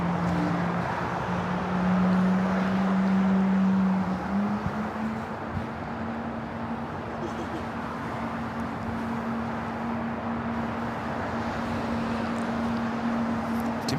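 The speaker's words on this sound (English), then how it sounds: "Yeah, you can hear the engine start." Airliner jet engine starting at LAX airport, a low steady hum that rises in pitch and then holds as the spool-up continues, heard from a distance under broad outdoor airport rumble.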